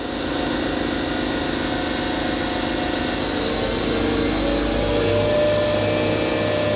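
The spindle of a Fadal VMC 4020HT vertical machining center runs in its high belt range with a loud, steady whirring drone whose pitch shifts slightly as speed changes, continuous and close with no talk.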